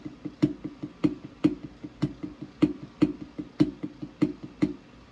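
A snare drum is played softly at a quiet dynamic, with even, rapid strokes and accented hits standing out at regular intervals, close and clear with no talk.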